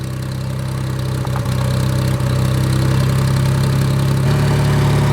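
Ford 2000 tractor engine idling steadily after its carburetor was primed, a loud close continuous rumble with a slight change in pitch near the end and no talk.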